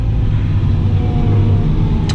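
A Fendt 1050 tractor with a Kverneland plough reverses, its engine a loud, steady low rumble heard from inside the cab without any talk.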